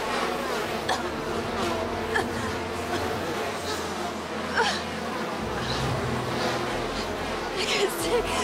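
A swarm of killer bees hums in a steady, dense buzz for several seconds, with faint voices and low background rumble under it.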